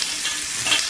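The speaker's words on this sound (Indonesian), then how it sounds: "Okey, Puspa masukkan bahan-bahan tadi tumis." Ingredients sautéing in hot oil in a pan for a fish curry of kerisi fish in spicy coconut gravy, a continuous close sizzle with stirring scrapes, no talk.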